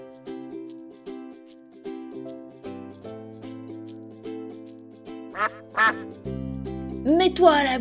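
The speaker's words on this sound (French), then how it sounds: "Oh, un canard est coincé." Repeated quacks from a trapped duck in a PAW Patrol children's cartoon come in a steady rhythm over a soft tinkling melody, growing louder and more agitated toward the end.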